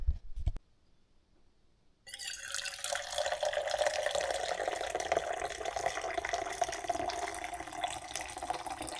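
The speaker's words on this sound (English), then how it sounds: "I'm about to pour myself a cup of coffee to go" A cup of coffee being poured, a steady liquid stream running close by for about seven seconds after a short knock and a moment of quiet.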